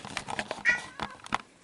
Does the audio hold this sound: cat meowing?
yes